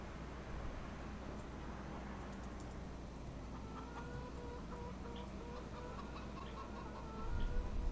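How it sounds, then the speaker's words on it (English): Chickens cluck and squawk in Farming Simulator 25, a noisy, continuous chorus over a steady background hiss, with a few brighter calls cutting through near the end. "Boy, those are noisy chickens."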